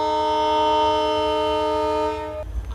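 The 15928 Tinsukia–Rangiya Express sounds a loud, sustained two-tone horn at a station in flood-hit Assam. The blast holds for over two seconds and then cuts off, leaving low rumbling train noise.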